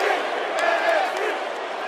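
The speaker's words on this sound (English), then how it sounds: "the crowd is hot for this one" Loud, dense crowd roar in the WWE 2K17 wrestling video game, a continuous cheering wash with faint voices within it and a few brief sharp accents.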